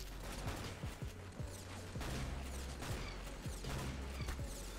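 Gunfire in Roblox Arsenal, a blocky online shooter: a steady run of rapid, close shots and mechanical clatter repeating over several seconds, with no voices.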